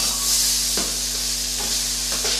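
A portion of rice frying in a hot pan gives a steady, close sizzle, with a few short scraping stirs cutting through it.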